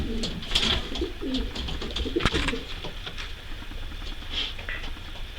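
Grizzle pigeons in a loft, with repeated soft cooing and wing and foot patter throughout, fairly close, against steady low background noise.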